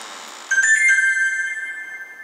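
A short electronic notification chime rings out clearly, a bright two-part tone that sustains and slowly fades, with no voices.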